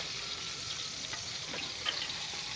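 Ghee heating and frying in a pan: a soft, steady sizzle with faint crackles and a light scrape or clink partway through, close and quiet, alone.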